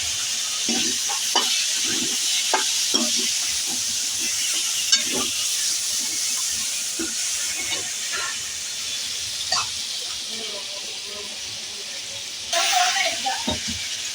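Hot oil sizzles steadily while a utensil stirs and clinks now and then, with voices talking intermittently over the frying.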